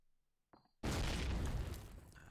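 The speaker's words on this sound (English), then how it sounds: "But Karma's got a nice nade hit." A grenade blast in Call of Duty, a faint pop followed by a loud, sudden booming explosion that roars on and slowly decays, heard alone.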